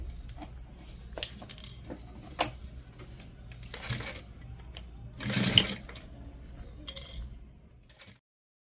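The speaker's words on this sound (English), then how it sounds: "Now I'm going to stitch this on" A sewing machine stitching a quarter-inch seam in fabric during a sewing project, heard as a quiet, intermittent run of short mechanical bursts with small clicks and taps between them, no talking.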